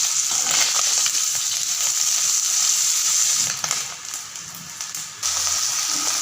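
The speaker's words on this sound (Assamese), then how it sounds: "এইফালে মাছ ভাজি আছোঁ" Small salted, turmeric-rubbed fish fry in hot oil in a pan, giving a steady, fairly loud broadband sizzle that dips briefly a couple of times, with no voices over it.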